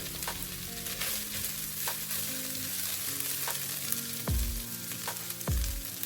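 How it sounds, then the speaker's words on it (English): Fish roll filling is stirred in a hot pan, sizzling steadily while a utensil scrapes and taps against the pan in an irregular rhythm, with two heavier knocks near the end and no talking. "We are going to stir this."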